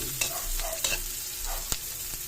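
Onion and garlic sautéing in a pan for a Filipino lumpia togue, a steady soft sizzle with a few light spoon clicks as they are stirred, close, no talk.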